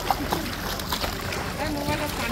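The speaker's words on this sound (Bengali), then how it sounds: "এই পানি পড়তেছে" Water pours and splashes lightly at Manabay water park, a continuous gentle patter under nearby voices chatting.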